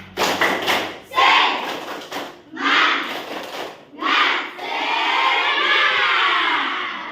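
Classroom of children performing the tepuk semangat clapping chant, rhythmic bursts of claps and shouted chanting in several loud phrases, ending in a sustained group shout.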